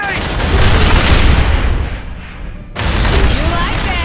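A grenade explosion and gunfire in Aliens: Dark Descent, a loud, dense roar of blasts and rapid shots that briefly dips then surges again, with shouted voices in the mix.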